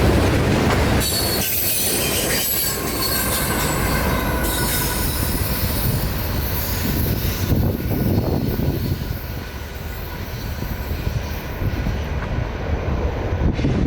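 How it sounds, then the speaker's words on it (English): A freight train with a distributed power ET44AH locomotive on the rear rolls past at night in Bushnell, Florida, a loud continuous rumble and clatter of wheels with high squealing, close and sustained throughout. "a distributed power locomotive, a lone ET44AH number"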